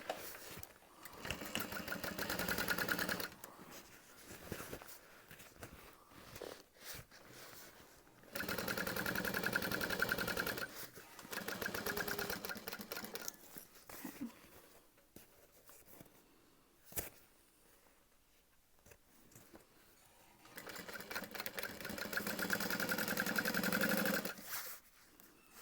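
A sewing machine stitches the side seams of a fabric bag in steady bursts of several seconds each, with short pauses between runs and the motor whirring close and clear.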